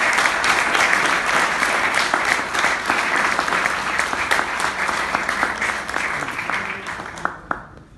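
A large audience applauds at a presentation, with sustained, dense clapping that slowly tapers off near the end.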